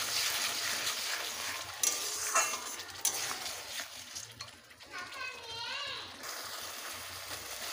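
Tomato paste and spices stir-frying in a pan for a Bengali rohu fish curry with ginger and cumin paste, a soft steady sizzle with scraping stirs, children's voices faintly heard in the background.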